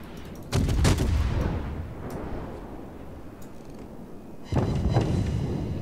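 Naval gunfire from warships in World of Warships, two heavy booming salvos with rolling rumble, one near the start and another toward the end, separated by quieter battle ambience.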